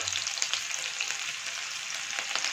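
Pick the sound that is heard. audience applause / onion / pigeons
onion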